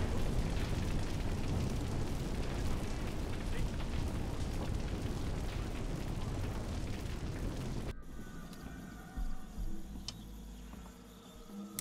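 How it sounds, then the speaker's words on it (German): An explosion in the video game Crysis sounds as a sustained, loud rumbling roar that cuts off abruptly, followed by quieter ambient rumble, clanks and faint mechanical noises. "Ich sollte raus, bevor das Ding explodiert."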